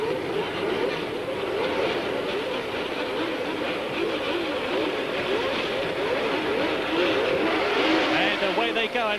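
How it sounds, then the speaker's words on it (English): Formula 1 cars at the start of the 1979 Canadian Grand Prix, a dense, continuous roar of racing engines with rising and falling revs throughout, heard under broadcast commentary. "Jody Scheckter in the Ferrari onto the grass, not making up any places at all, and it's Villeneuve leading from Alan Jones as they go into the first corner."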